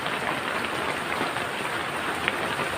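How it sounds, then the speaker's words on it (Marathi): Heavy rain pours outside a house in Jalna district, a dense, steady hiss of drops on surfaces with no pause across the short stretch. "पाऊस बाहेर चालू आहे"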